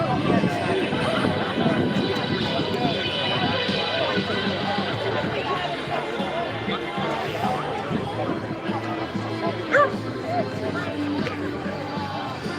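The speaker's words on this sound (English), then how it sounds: "Oh, somebody's flying a drone." A drone flies over an outdoor protest crowd in Braintree, Essex, its steady engine-like drone blending with loud crowd babble and talking throughout.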